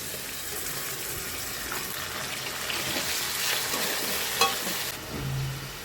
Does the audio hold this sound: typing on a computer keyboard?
no